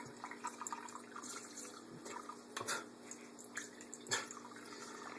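A parakeet bathing makes soft splashing and dripping water with small irregular flicks and splatters, quiet and close, over a faint steady background hiss.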